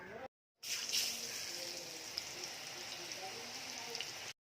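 Mango pieces drop into hot coconut oil and fry with a steady, even crackling sizzle that follows a brief silence and carries on without a break.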